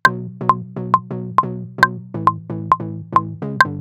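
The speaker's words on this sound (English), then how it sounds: "The bass pattern we're going to play sounds something like this." Housey synth bass pattern from Massive software synth for a UK garage track, a bouncy repeating riff of short plucked notes with a bright high accent on each beat, loud and alone.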